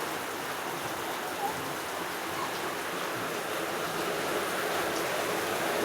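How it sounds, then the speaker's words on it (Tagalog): Steady, even hiss of rain falling without a break, a constant wash of sound with no clear individual drops standing out. "Hindi tayo makalabas dahil maulan."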